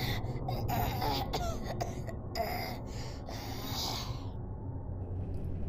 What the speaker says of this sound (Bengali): কাশির শব্দটা দেখলাম আবারও এলো।